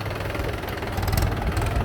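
A tractor engine running close by, a steady low, throbbing rumble that holds unbroken throughout, with no talking.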